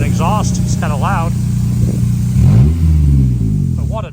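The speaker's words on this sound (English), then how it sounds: "Apart from not having an exhaust, it's kind of loud." Honda S2000 engine with no exhaust fitted, running loud and close with a steady drone that rises in a short rev near the end, while a person talks over it.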